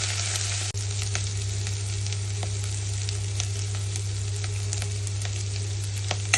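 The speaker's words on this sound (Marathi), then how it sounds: "हे असे आता परतून घेऊया गुलाबीसर होईपर्यंत।" Rice sautéing in a pan for kheer, a steady crackling sizzle with occasional stirring clicks over a constant low electrical hum, no voices.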